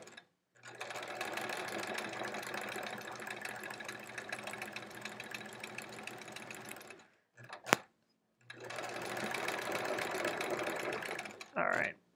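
A sewing machine stitches during free-motion quilting on a quilt-as-you-go sampler block, running in two long steady bursts with a brief pause and a couple of short sounds between them, close and loud.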